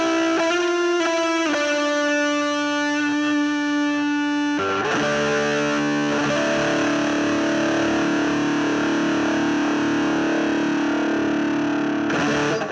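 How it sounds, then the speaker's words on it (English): Electric guitar played through SD1 overdrive and Rat distortion pedals, loud sustained notes giving way to thick, saturated lead distortion with chords and bends, no talking. "run it in the Rat, and all of a sudden you've got extremely rich and creamy, overdriven, lead distorted tones"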